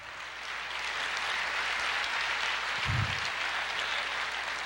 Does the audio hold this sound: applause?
yes